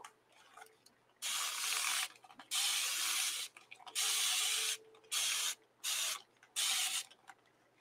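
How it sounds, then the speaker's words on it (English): Spray bottle misting onto a gel printing plate: about seven loud hissing bursts of uneven length, close and alone with no talk. "Now, if I spray this,"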